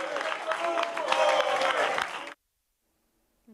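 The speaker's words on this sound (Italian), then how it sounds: "i consiglieri di maggioranza si sono alzati ad applaudire il sindaco" Council members applaud the mayor at a tense council meeting, a dense burst of clapping with crowd noise that cuts off abruptly, followed by near silence.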